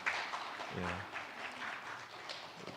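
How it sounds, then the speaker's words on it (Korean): A church congregation applauds during a Sunday worship service to welcome new members, a soft, distant patter of clapping with a voice speaking briefly over it. "우리 두 분 사랑으로 박수로 환영하겠습니다"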